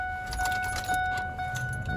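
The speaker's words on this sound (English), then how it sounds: "put my keys in real quick" Car keys jangle in brief metallic bursts as they go into the ignition of a truck. The rattles come close and fairly soft over a low rumble.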